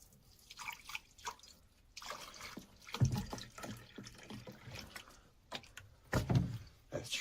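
Mountain water pumped up from the ground pours and trickles in a steady run of drips and splashes, fairly close, with louder gushes now and then and no voices.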